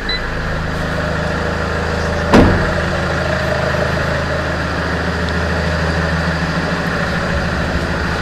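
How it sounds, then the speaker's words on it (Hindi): A car engine, started before running a portable tire inflator pump, idles steadily at close range, with one brief louder burst partway through and no talk. "तो अभी कार का इंजन जो है स्टार्ट कर लिया हमने"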